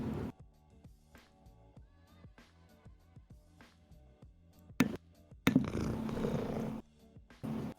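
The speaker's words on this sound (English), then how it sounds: "Hi, purring kitty." A house cat purring close by in a steady rhythmic rumble of repeated breaths, joined near the end by a couple of louder sharp noises and a burst of broadband rustle.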